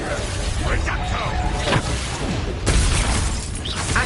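A Reducto spell blast in Hogwarts Legacy gives short smashing, cracking impacts, with sharp bursts near two and a half seconds, over a steady bed of game ambience, and spoken voice throughout.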